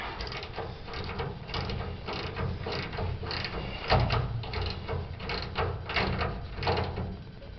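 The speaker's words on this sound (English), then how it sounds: "And then tighten your nut." A ratchet clicks in quick repeated bursts while tightening a nut on a 1995 Ford F-250 rear shock, a close, steady series of mechanical pawl clicks with short pauses between strokes.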